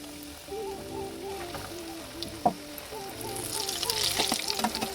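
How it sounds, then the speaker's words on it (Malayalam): Chicken pieces frying in hot oil in a pan for broasted chicken, a steady sizzle and crackle with a small pop near the middle, growing busier toward the end, with a faint tonal hum underneath. "ചൂടായ ചീനച്ചട്ടിയിലേക്ക് ഓയിൽ ഒഴിച്ച് നമുക്ക് ഓരോ ചിക്കനും ഇതേപോലെ പൊരിച്ചെടുക്കാം"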